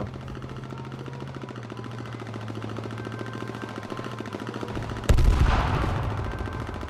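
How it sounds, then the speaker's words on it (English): Video game firefight with a rapid automatic weapon rattling steadily in the background, then a sudden loud blast near the end that rings out and fades. "They're shooting at us"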